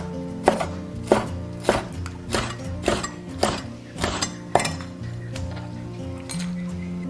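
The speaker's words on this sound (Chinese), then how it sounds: "我们给它切圈。" A knife chops squid tubes into rings on a cutting board, seven or eight sharp, evenly spaced strikes ringing out close and loud, with faint kitchen clinks between them.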